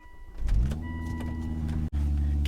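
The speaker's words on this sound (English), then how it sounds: "God, I love that startup sound." A Volvo V70R engine cranks and catches, settling at once into a steady, loud idle hum with a brief dip in sound near the end.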